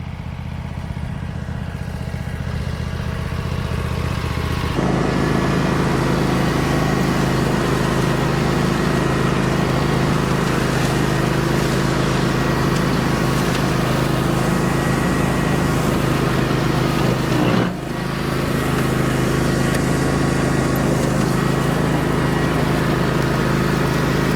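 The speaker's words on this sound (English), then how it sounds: "that DR mower is a real workout on this backside of this pond dam" A DR walk-behind brush mower runs continuously as it mows across a steep pond dam slope, a loud, close, steady engine drone with a brief dip partway through and no talk.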